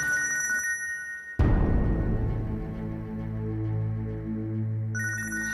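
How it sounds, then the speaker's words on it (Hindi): An electronic phone ringtone chimes in a crime TV drama, is cut off by a sudden loud dramatic musical hit with a long droning tail, then rings again at the end. "घर से फोन आया"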